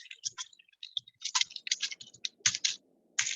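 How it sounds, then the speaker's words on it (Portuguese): Computer keyboard typing picked up during a live online SEO talk: irregular bursts of quick, crisp key clicks with short pauses between runs, fairly close and moderately loud, with no talking over them. "Eu estou ouvindo um teclado agora, não sei de onde está vindo"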